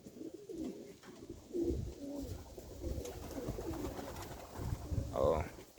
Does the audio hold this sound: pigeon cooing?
yes